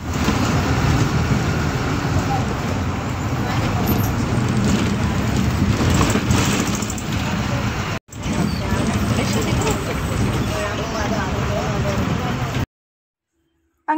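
A bus travelling on a road toward Perinthalmanna, with a continuous engine rumble and road noise that sound close, broken by a short gap and ending in silence, while people talk over it.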